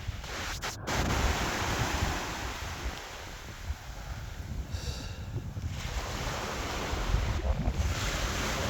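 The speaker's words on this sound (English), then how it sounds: "Down by the beach, enjoying the beautiful weather." Ocean surf breaking steadily on a beach in fine weather, a continuous broad wash of waves with gusty wind buffeting the microphone throughout.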